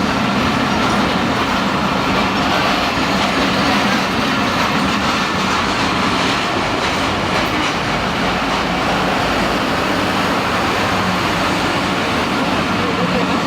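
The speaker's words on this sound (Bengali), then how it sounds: "লোকাল ট্রেন সামনে স্টেশন তো থেমে যাবে।" A local train runs with a loud, steady rumble and rattle of the carriages that carries on without a break, while passengers' voices blend faintly into the din.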